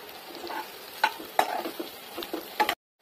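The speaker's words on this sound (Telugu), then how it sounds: "ఇప్పుడు మనం కలుపుకోవాలి." Egg fried rice with onions being stirred in a frying pan, with a steady sizzle under several scraping strokes and soft taps of the spoon against the pan, close and fairly quiet, then sudden silence.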